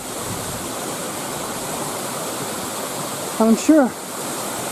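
Crawfordsburn waterfall on a small stream in a wooded ravine makes a steady broadband rush throughout, while someone speaks briefly near the end.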